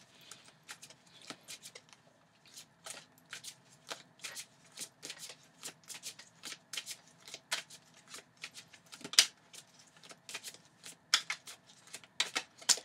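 Oracle cards are shuffled by hand in a quiet room, giving a steady run of soft, crisp riffling flicks and slaps that repeat in uneven bursts.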